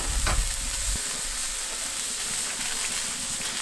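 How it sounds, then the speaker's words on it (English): Pineapple coated in brown sugar caramelises over a charcoal grill, giving a steady close sizzle and hiss with a soft thump near the start, and no talking. "So these all caramelise up nice and quick on here."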